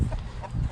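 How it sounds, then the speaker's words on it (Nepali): Local village chickens cluck in short, close bursts over a steady low rumble, with no voices. "मजाले लोकल कुखुरा खेलिरहेको अवस्था है।"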